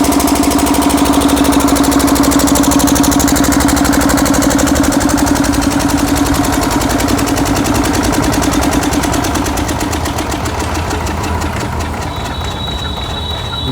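A Kirloskar 7.5 kVA generator engine running loud and close at high revs, a steady throbbing drone that eases slightly lower as it continues, no talk over it.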